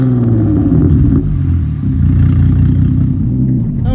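A Volkswagen Golf fitted with a NASCAR engine and an unsilenced straight-through exhaust drives close by, a loud, deep burbling roar with rapid engine pulses that rises and dips as the throttle changes.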